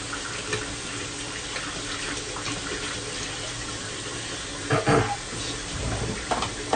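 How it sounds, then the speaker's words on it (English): A shaving brush knot rinsed under a running bathroom tap, water streaming steadily at moderate level, with a brief louder splashing burst near the end as the brush is worked under the flow. "Let me clean out this knot, and hopefully this knot doesn't fall out. Just rinsing it out."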